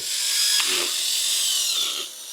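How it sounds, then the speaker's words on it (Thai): A power drill whines steadily as it bores a hole while a garage curtain is being mounted, loud and close, with a brief dip in pitch midway. "ให้เราเนี่ยเจาะฝั่งขวาเจาะให้มันเท่ากันเลย"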